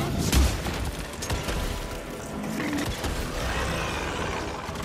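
Gunfire and combat noise from the video game Evil West, a dense continuous barrage of shots, booms and mechanical clanks filling the whole stretch with no talk over it.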